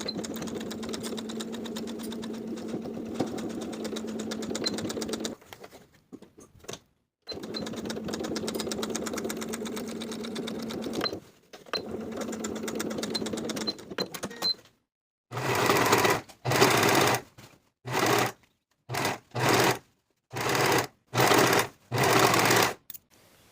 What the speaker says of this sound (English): complete the waistband by sewing closed the gap in our stitches following the original stitching line on both sides